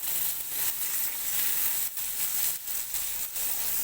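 Garlic dropped into onions frying in hot oil for an eggplant curry, giving a steady close sizzle with a few brief dips and stirring breaks, no talking.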